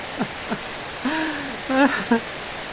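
Steady rain patters and hisses in the background while a voice calls out a few excited exclamations over it.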